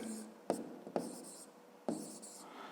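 Pen on paper in a school math exercise book, writing out numbers for a column addition problem: a few distinct scratchy strokes with soft pauses between, close and fairly quiet.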